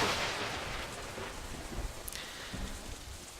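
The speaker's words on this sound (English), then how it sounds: "The first rain was beginning to fall." Steady rain patters and hisses in the visual novel Katawa Shoujo, with soft low rumbles of distant thunder and a faint sharp drip near the middle, all without talk.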